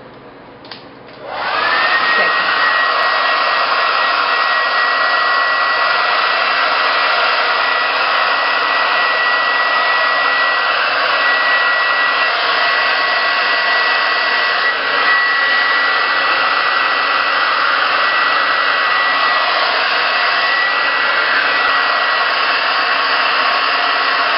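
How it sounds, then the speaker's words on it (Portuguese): A hair dryer on its cold setting blasts steadily and loudly for the whole stretch after a brief click at the start, a constant airy whoosh with a faint motor whine. "Pega o secador no jato frio."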